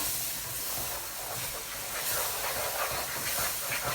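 Water and butter boiling together in a pot, heard as a steady, dense hiss with a soft bubbling roughness, continuous and even, fairly faint and close.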